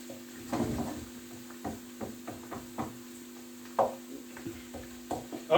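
Onion slices cooking in a pan for a country-style omelette, with repeated close scrapes and stirring knocks over a soft sizzle and a steady low hum, no voices.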